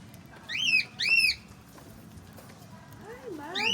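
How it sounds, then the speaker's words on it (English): Birds give two loud, close, rising-and-falling whistled calls, then more whistles follow near the end over low background murmur at a country club, with people talking quietly around them. "Got a lot of birds on you now."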